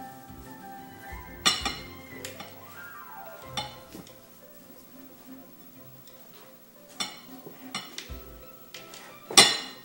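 Spoon mixing shredded coconut into a mixture in a bowl, with sharp clinks and taps of metal against the bowl at irregular intervals over quieter scraping and stirring, close and without speech.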